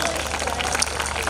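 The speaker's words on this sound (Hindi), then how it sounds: "अब तक बात ताली बजा के बताओ मुझे आप।" Audience applause from a crowd at a Hindi poetry or comedy recitation, a short, dense burst of clapping that carries evenly through the moment.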